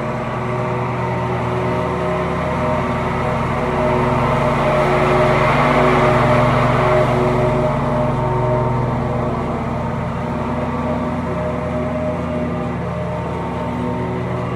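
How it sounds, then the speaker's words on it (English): A lawn mower engine drones steadily and fairly close while mowing grass, a continuous even hum that swells slightly midway and holds without pause. "I'm gonna get some footage of us mowing it with the house on it."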